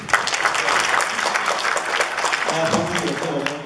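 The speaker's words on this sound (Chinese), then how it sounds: "站起来大家鼓掌一下" An audience applauds at a transport company results presentation, a dense, steady clapping that holds through the clip, with a voice speaking over it near the end.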